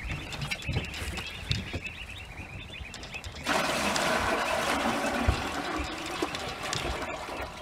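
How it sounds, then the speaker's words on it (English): Water from a spray head pours into a duck waterer being filled with 5 gallons, a quieter trickling at first, then a sudden louder, steady rushing hiss of water striking the container that continues evenly. "So I'm going to fill it with 5 gallons of water"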